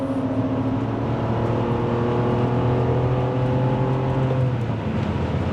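On the Nürburgring, a Porsche and a BMW M2 approach from behind while heard from inside a car. A loud, continuous engine drone with sustained steady tones fills the whole stretch, with no break.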